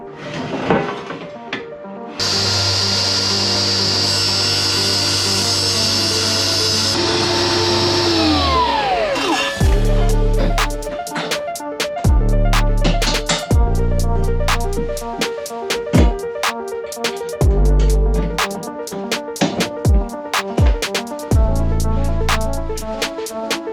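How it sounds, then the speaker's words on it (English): A power saw cutting lengths of 80/20 aluminium extrusion for a caravan bed lift: a loud, steady motor whine runs for several seconds and winds down, followed by a run of sharp clanks and knocks as metal pieces are handled. "So now what we've got to do is cut all this 80/20 to length, bolt it together and install the bed platform."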